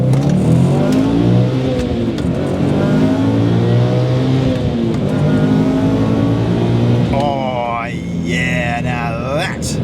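A Subaru WRX STI Spec C with its EJ207 engine in Sport Sharp mode accelerates hard, its loud, continuous engine note climbing through the revs, with a brief shift or dip near the end before pulling again.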